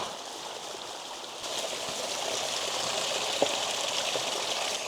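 A waterfall pours into a mountain stream on a Timberline Trail hike, giving a steady, close, full-bodied rushing hiss that holds constant throughout with no voices.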